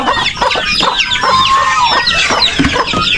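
Farm chickens cluck and chatter close by in a busy flock, with overlapping squawks and calls and a rooster-like cry, and no talking.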